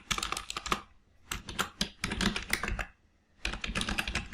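Commands typed on a computer keyboard, rapid clicking keystrokes in bursts separated by brief pauses, close and clear with no voices.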